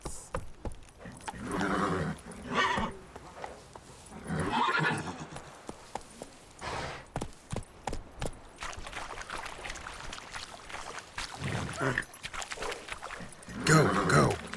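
A horse in The Witcher 3 clip-clops along with hooves in irregular bursts and gives several loud whinnies and neighs, while voices speak in between.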